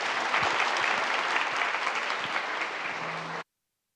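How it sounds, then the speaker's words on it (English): Conference audience applauding steadily and fairly loudly for several seconds, a dense even clatter of many hands that stops abruptly. "If you can give these three a round of applause."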